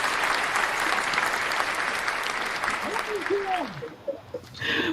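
Audience applause greets a co-host on a talk show, dense sustained clapping that thins toward the end as voices start speaking over it.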